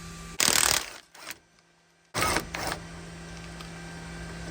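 Ratchet wrench loosening a 14mm seatbelt bolt on the B-pillar of an AE86 being prepared for track use; two close, loud bursts of rapid clicking separated by a short pause.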